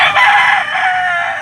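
Roosters crow at a busy chicken market, one loud sustained crow carrying through the whole moment over a dense bed of other birds close by.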